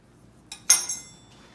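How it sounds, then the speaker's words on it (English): A knife runs along the cut line in rolled chicken patty dough, giving a few short, quiet metallic clicks and scrapes against a near-silent background. "Some didn't cut off clean, so I'm just doing that, running the knife to get it out."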